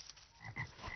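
A cartoon toad croaks in a few short, raspy bursts, low and fairly quiet, with the loudest croak near the middle and no talking over it.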